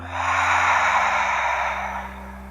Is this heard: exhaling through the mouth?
yes